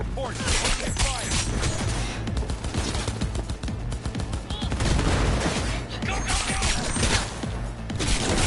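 Dense, loud gunfire during a firefight in Cyberpunk 2077, continuous rapid bursts and shots layered with combat noise and music, with voices speaking over it.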